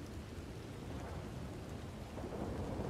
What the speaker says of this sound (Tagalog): Masyadong malakas ang kulog.